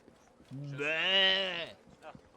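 Sheep in the video game Assassin's Creed Origins gives a single clear, drawn-out bleat lasting about a second, fairly close and loud over quiet background.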